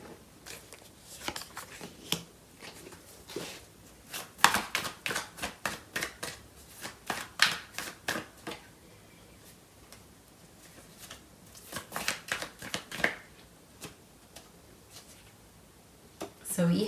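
Tarot cards shuffled by hand in a steady run of crisp riffling bursts, moderately close, pausing briefly before resuming, with soft speech faintly underneath.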